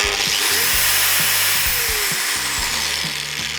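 A Bosch GWS 17-125 angle grinder soft-starts, winding up steadily and whining at a loud, constant pitch, with a continuous high hiss and small low clicks underneath.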